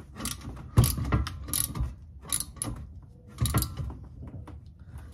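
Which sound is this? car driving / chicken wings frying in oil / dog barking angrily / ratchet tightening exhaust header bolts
ratchet tightening exhaust header bolts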